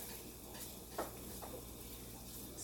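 Soft, steady sizzling of chorizo and crumbles frying in a pan, with a couple of faint scraping stirs, quiet and close.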